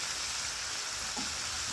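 Chicken breasts fry in a pot while being stirred, a faint steady sizzling hiss with a brief soft scrape of the spoon near the end, no voices.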